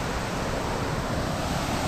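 Water gushes out of the Harike dam as a loud, steady, broadband roar with no break, close to the outflow.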